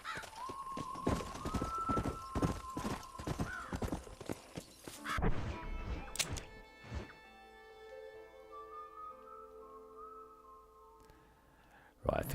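In Red Dead Redemption, rapid horse hoof clip-clops beat at a steady gallop, then stop; a horse whinnies amid game music and sound effects.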